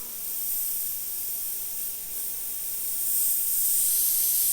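An airbrush fitted with a fine 0.2mm needle sprays paint in a soft, steady hiss that holds constant and swells slightly toward the end, heard close and alone without speech.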